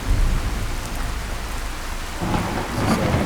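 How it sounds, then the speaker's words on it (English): Heavy rain from a realistic weather mod in the video game Fallout 4 hisses steadily, with a rolling thunder rumble swelling toward the end and no voices. "That's heavy rain from one of the mods I've got on."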